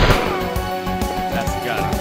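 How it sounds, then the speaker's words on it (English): Repeated loud shots pound out from a gun in the Die Hard 2 portion of Die Hard Trilogy on PlayStation, thumping in quick succession over busy game sound, with a voice talking alongside. "That's the gun."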